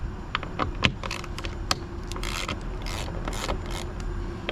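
Roof bar fixings being undone on a Land Rover Discovery 5 roof, a string of close, crisp ratcheting clicks and metallic ticks in short irregular bursts over a low hum.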